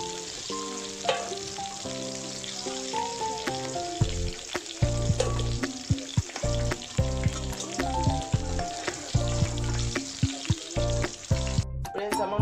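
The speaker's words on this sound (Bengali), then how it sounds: "আমার মাছের মাথাগুলো ভাজা হয়ে গেছে" Fish heads frying in hot oil give a loud, close, crackling sizzle with frequent sharp spits and pops, alongside a steady low rumble and occasional clatter.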